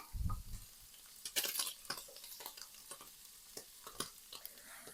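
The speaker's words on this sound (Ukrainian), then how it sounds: "Морква з цибулею обсмажилась, додаю до м'яса." Carrots and onions fry in a pan with meat, a soft sizzle under repeated scraping stirs of a utensil against the pan, quiet and close.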